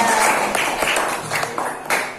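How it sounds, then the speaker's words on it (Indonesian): Short burst of classroom applause for a student, a few pupils clapping in an uneven patter for about two seconds with faint voices around it. "Tepuk tangan untuk Mbak Azza."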